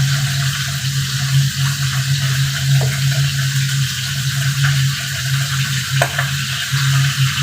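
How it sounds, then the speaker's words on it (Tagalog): Milkfish (bangus) fries in a pan with a steady, loud sizzle and crackle, with occasional sharp pops and a constant low hum underneath. "Ngayon, magprito na tayo ng bangus."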